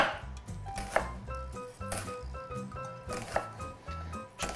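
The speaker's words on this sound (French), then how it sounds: "Alors j'essaie de ciseler le plus finement possible." Onions chopped finely with a knife for a flammekueche: an uneven run of quick, close knife taps on a board, with soft background tones and no talking.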